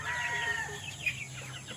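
Chickens clucking and calling in a flock, fairly close, with a steady low hum in the background and no voices.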